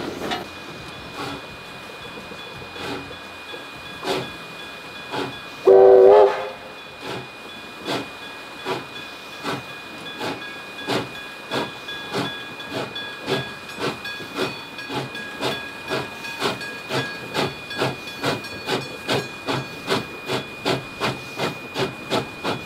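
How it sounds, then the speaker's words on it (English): The 1941-built steam locomotive K163 chuffs in a steady, accelerating rhythm with continuous hissing steam and a brief whistle-like tone early on, heard fairly close. "it's great to see this locomotive be around for a long time to come"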